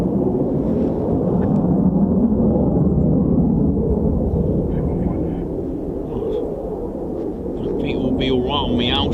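An F-35B stealth fighter jet flies overhead at an RAF air display, a loud, sustained broadband jet roar that swells and eases slightly over several seconds while people chat nearby.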